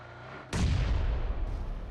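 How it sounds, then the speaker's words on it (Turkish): A grenade explodes in PUBG Mobile: one loud, sudden boom hits after a quiet moment, followed by a sustained rumbling roar that fades slowly, with no talk over it. "Ben ona bir bomba atayım."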